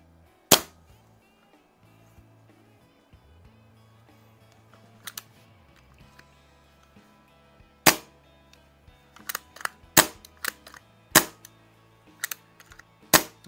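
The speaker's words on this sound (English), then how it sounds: "so you cock it and that'll bring a BB in" Sharp percussive snaps of a BB air gun being cocked and fired, one early report followed by a rapid cluster of loud near shots and clicks over a quiet background with low mechanical handling.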